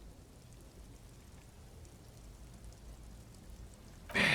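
Rain falls steadily in the video game Disco Elysium, a soft, even hiss throughout that ends in a sudden louder burst.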